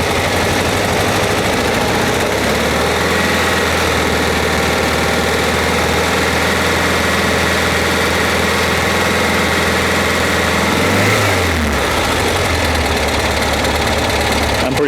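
A Porsche 912 engine with freshly cleaned idle jets idles steadily and loudly up close, a smooth low drone that briefly dips and wavers near the end before settling again.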